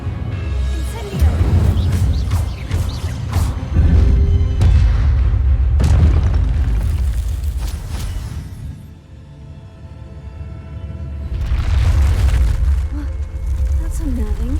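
Booming fire-spell blasts in the Hogwarts Legacy video game, heavy bursts and rumbles recurring over many seconds amid game noise, with a voice speaking throughout.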